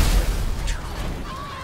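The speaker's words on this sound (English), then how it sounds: "Explosions." An RC Bandito blows up in GTA Online, a short booming blast that opens loud and broad, then fades into a crackling rumbly tail with a thin whistling tone near the end.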